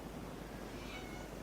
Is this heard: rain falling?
no